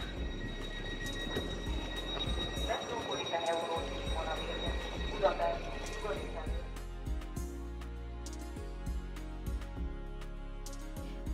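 A double-decker train at a railway station in Hungary: a low rumbling carriage with metallic wheel squeals and clanks, under nearby conversation.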